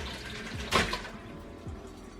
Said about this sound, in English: So we're going to take our spinach and just pour it in here.